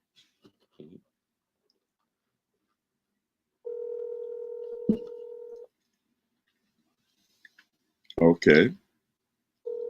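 A phone call dials out over WhatsApp with a long steady electronic tone lasting about two seconds, a couple of faint clicks around it, then a short spoken word near the end and another tone starting at the close.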